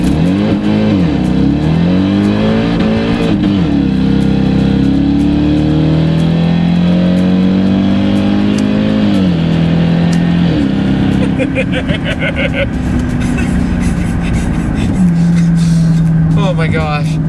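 A wrecked Jaguar XFR accelerates hard on a cold road, its engine note rising and falling through gear changes, loud and close from inside the car, with a person talking over it.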